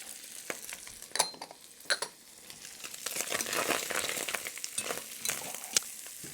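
Carrots, celery, marjoram, thyme, cloves and chopped garlic sizzle and fry in a soup pot while being stirred, with steady close crackling, scraping stirs and a few sharp clinks.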